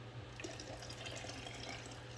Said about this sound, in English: So I'm adding another cup of hot water